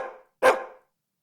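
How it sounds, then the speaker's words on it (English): A neighbor's dog lets out two sharp, fairly close barks, the second louder and longer, with silence after. "That's just the neighbor's dog."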